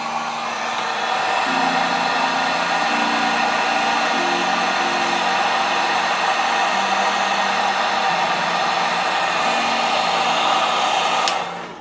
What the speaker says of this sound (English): I'm just going to take my heat gun.